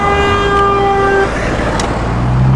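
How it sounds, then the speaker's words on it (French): Car horn honking at a 1989 Jaguar XJS V12 on the road, a loud sustained toot that cuts off halfway, over steady engine and traffic rumble. "on vient de se faire klaxonner"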